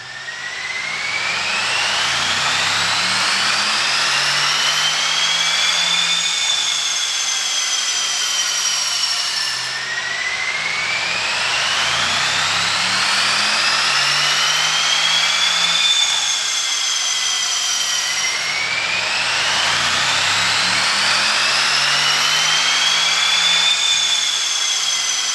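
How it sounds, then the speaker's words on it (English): A Mercedes-AMG E63 engine runs up on a dyno in three loud, rising sweeps, each climbing steadily in pitch before dropping back and starting again, with no voices over the roar. "I'll tell you what, Affy, that AMG just sounded epic running up on the dyno, didn't it?"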